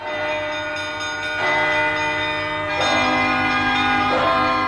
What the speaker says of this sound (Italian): noi andiamo a suonare una campana